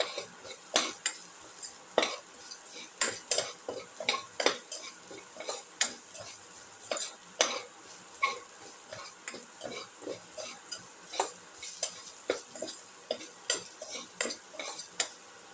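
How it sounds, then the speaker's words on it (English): A utensil stirs shallots, ginger and egg as they sauté in a pan, making a steady run of close, sharp taps and scrapes against the metal, with a faint sizzle underneath and occasional soft talk. "Thoroughly saute and mix"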